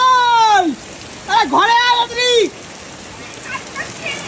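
Steady rain hisses throughout while a voice calls out loudly over it, then the downpour continues alone.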